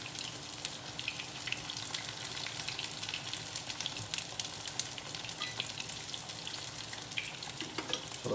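Beer-battered halibut fries in a pan with a steady, dense crackle and sizzle that carries on evenly throughout, with no voices over it.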